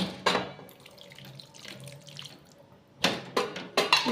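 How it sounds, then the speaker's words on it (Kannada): Water pours into a cooking pot in short bursts, with a steady trickle in between and a few louder splashes near the end. "ಇನ್ನೊಂದು ಸ್ವಲ್ಪ ಹಾಕೋಣ ನೀರು"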